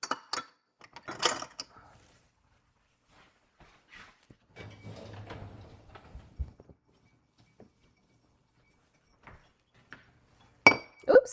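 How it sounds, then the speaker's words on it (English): Glass clinks and clatters several times in a kitchen while shrimp scampi is being made, in sharp, separate bursts with quiet gaps between them and a rattling stretch in the middle. "Oops, I almost broke glass."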